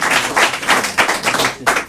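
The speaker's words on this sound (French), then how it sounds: "En plus, elle lance les applaudissements." Canned applause played on a French radio show, a burst of crowd clapping with dense rapid claps swelling and dipping in waves for under two seconds, close and loud with no talk over it.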